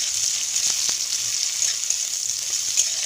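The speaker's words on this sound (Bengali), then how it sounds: "পেঁয়াজ কুচি দিয়ে ভালোভাবে ভেজে নেব" Chopped onion frying in oil left from frying pabda fish with nigella seeds, a continuous close sizzle with occasional soft scrapes and taps of a spatula in the pan.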